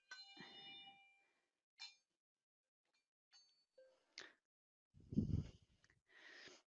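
Hand bells struck one at a time in a quiet room, a scatter of bright separate rings, some ringing out and fading, with soft breathing and handling noise between them.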